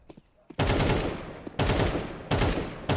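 Automatic rifle fire in the video game Counter-Strike 2, three loud close bursts of rapid shots separated by brief pauses, preceded by faint clicks and quieter sounds.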